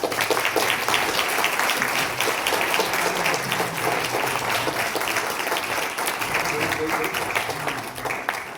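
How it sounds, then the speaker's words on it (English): Steady applause from a conference audience after a keynote by an EU deputy ambassador, a continuous dense patter of many hands held at even loudness throughout, somewhat distant. "please help me give a round of applause to Mr. Curtis"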